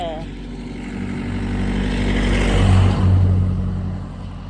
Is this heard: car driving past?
yes